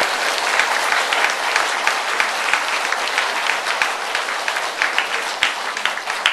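A church congregation at an afternoon worship service applauds together, many hands clapping in a loud, dense and steady stream for several seconds without talk.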